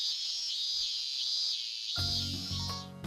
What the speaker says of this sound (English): Just listening to those cicadas was enough to make me sweat.